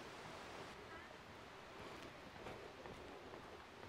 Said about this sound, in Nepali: पानीको छङछङ छङछङ सुनिरहनु भएको छ हजुरहरूले